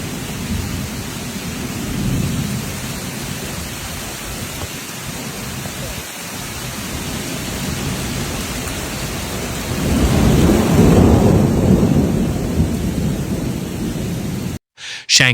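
Heavy rain pours during a Shanghai thunderstorm, a dense steady roar with thunder swelling loudly near the end before cutting off abruptly.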